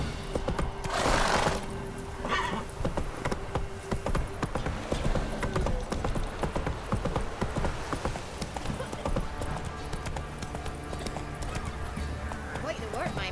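Geralt's horse Roach gallops steadily through The Witcher 3, with continuous close hoofbeats and a snort or whinny near the start, while ambient game sounds carry on underneath.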